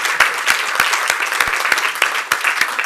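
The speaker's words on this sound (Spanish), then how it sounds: "Un aplauso." An audience applauds at a film and democracy screening-discussion session, the clapping loud, dense and steady throughout with a few sharp individual claps standing out.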